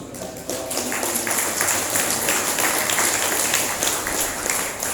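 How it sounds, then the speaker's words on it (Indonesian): An audience at an Isra' Mi'raj commemoration in a village applauds, loud dense clapping that jumps in after a brief pause and continues evenly throughout, close and energetic. "Tepuk tangan dong."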